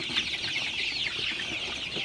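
Sonali super hybrid chickens clucking together inside a poultry shed, a dense, steady chorus of soft calls with no talking.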